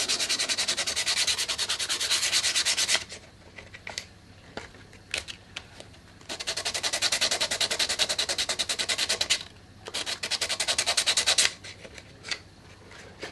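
Hand sanding with 180 grit sandpaper in a workshop during headstock inlay work: steady rhythmic back-and-forth rasping strokes in several bursts, with short pauses between, fairly close.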